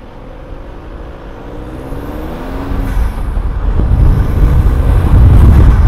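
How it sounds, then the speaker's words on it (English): Turbo whoosh from an Audi A3 8V 2.0 TDI fitted with a RamAir PRORAM induction kit, a steady engine rumble that builds gradually in loudness over a few seconds, close and with no voices. "Turbo noise."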